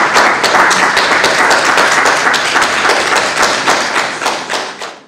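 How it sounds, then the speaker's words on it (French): A room full of people at a partnership announcement between two business schools breaks into sustained applause, dense steady clapping that holds loud for several seconds and then begins to taper off. "Ça s'applaudit."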